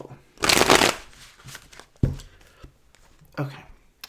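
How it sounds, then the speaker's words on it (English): A deck of tarot cards being shuffled by hand: a dense riffling burst up close, then a few sharper flicks and taps as the cards settle. "We'll shuffle."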